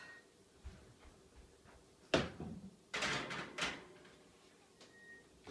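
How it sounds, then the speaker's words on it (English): An oven door opens and bangs shut in a home kitchen as a crumb cake goes back in to bake, giving a few sharp knocks and clatters over a quiet background. "Now I'm going to return it to the oven."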